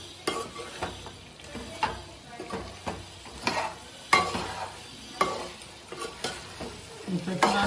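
Masala for a mutton head curry fries and sizzles in a pan while a spoon stirs it, giving a soft continuous sizzle under repeated scraping strokes and clinks at an irregular, brisk rhythm, close by.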